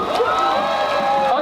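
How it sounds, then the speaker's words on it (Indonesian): Crowd cheering and whooping at a gathering of health workers protesting the omnibus health bill, a dense wash of voices with a few shouts rising above it, close and loud throughout. "Beri tepukan yang gemuruh."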